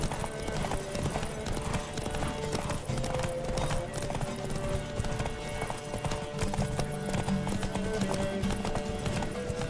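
Horse hooves clip-clop at a steady gallop in The Witcher 3, a continuous close rhythm of hoofbeats with an occasional whinny, layered over game music and ambience.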